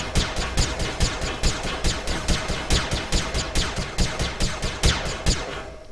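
Turret guns on a spaceship in the game Wayward Terran Frontier fire a rapid, steady burst of sharp gunshot cracks, about three shots per second, loud and continuous throughout with no talking.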